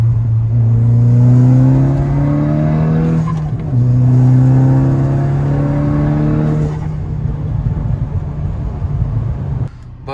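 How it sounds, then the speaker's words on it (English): Volkswagen Mk6 Golf R with a manual transmission driving on city streets in LA, its engine droning loud and close, pitch rising through the gears in long pulls with brief dips between shifts. "as you can hear, this car sounds kind of crazy."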